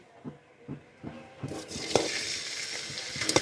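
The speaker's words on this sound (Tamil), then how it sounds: "சூடானதான் கட் பண்ணி வச்சுக்கிற 200 கிராம் பன்னீர் இதை போட்டு ஃப்ரை பண்ணிக்குவோம்" 200 grams of cut paneer pieces dropped into hot oil, a few soft taps and clinks first, then a sudden rise into a steady close sizzle that stays loud to the end.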